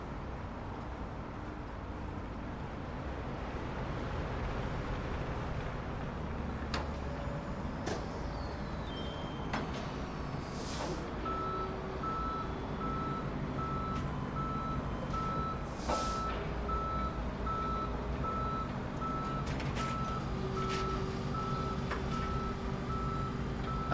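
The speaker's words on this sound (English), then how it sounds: "I still find these tow trucks really cool in this game." Tow truck reversing beeps in a video game, steady repeating tones over a constant engine idle and city traffic, with occasional louder mechanical hisses and clunks.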